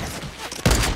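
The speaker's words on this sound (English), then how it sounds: "No, they're shooting." A burst of gunfire cracks out during a Fortnite Battle Royale squad match, a sudden loud shot or short volley landing near the end after a quieter lead-in.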